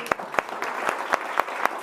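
Church congregation applauding in a rhythmic, steady beat of claps, moderately close, with voices mixed in under the clapping.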